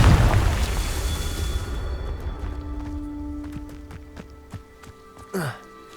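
Confringo explosive spell from Hogwarts Legacy, a loud opening blast that rumbles and gradually fades into a ringing tail, followed by a brief whooshing sweep near the end while a voice speaks.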